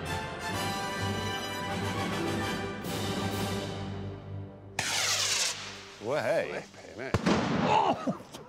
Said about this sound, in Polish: Wybuch był zbyt silny.